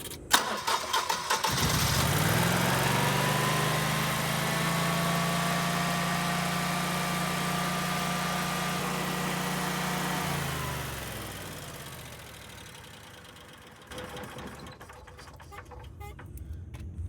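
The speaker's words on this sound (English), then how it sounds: "you want to turn the engine on first, just so it circulate the oil" Generac 20kW standby generator engine cranks and starts, then runs at a steady idle for about eight seconds before shutting down and winding to a stop, loud and close with no talk.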